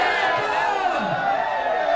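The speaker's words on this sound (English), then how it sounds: "they were just chanting, "Let's go Lightning," chanting Tampa Bay" Tampa Bay Lightning hockey fans packed into a bar with dozens of TVs, chanting together: a dense, loud wall of crowd voices with rising shouts, continuous and close, with a reporter's voice mixed in.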